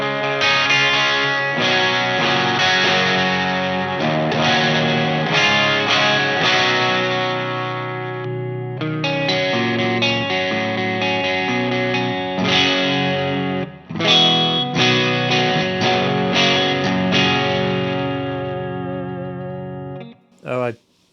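Electric guitar played through a Bogner XTC module in a Synergy SYN1 preamp at a cleaner setting with gain backed down, continuous chords and riffs with slight breakup, loud and up close.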